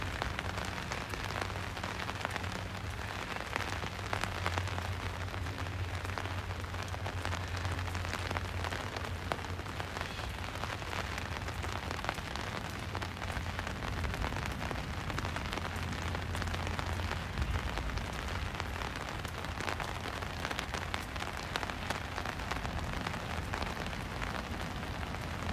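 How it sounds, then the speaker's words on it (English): Rain falling on an umbrella at Cottesloe Beach, Australia, a dense, continuous hiss of drops drumming close by on the fabric, loud and unbroken, with a low rumble beneath and no talking. "Can you hear the rain on the umbrella?"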